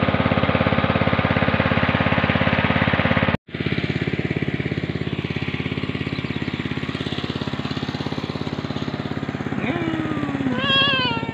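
A cat meows repeatedly beside catfish grilling over smoke, its rising cries coming in short bursts toward the end over a constant droning engine or mower hum, with a sharp dropout partway through.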